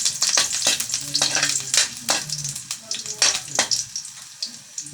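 Ginger sizzling in a hot pan as it is stirred, with scraping strokes and crackling bursts of frying close up, fairly loud and uneven, with no talking.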